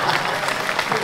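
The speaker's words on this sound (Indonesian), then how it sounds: "Tepuk tangan dong biar ketawa." Audience applause at a live comedy show, a brief burst of dense clapping from a crowd that stays steady throughout the short moment.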